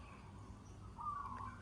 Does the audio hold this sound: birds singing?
yes